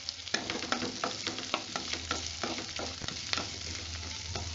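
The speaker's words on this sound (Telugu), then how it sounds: "అదే ప్యాన్లో ఇంకొక స్పూన్ ఆయిల్ తీసుకొని ఆనియన్స్ కూడా ఫ్రై చేసుకుంటున్నాను." Onions frying in a spoonful of oil in a pan for tamarind leaf chutney give a steady close sizzle, broken by repeated scraping stirs and light clicks against the pan.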